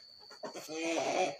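Chickens on a small home farm cluck nearby around feeding time, a short burst of overlapping calls rising in loudness midway and holding to the end, over a steady high-pitched background tone.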